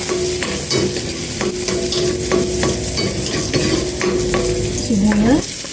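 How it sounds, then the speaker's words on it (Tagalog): Garlic sautéing in a hot pan, a loud continuous sizzle with scraping stirs and utensil taps at close range, no talking. "Mag-gisa na ako ng bawang."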